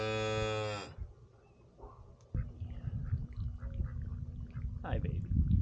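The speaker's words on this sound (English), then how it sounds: "Are you mooing?" A highland mini cow gives one loud, close moo, then quiet shuffling and chewing noises follow while a person speaks softly nearby.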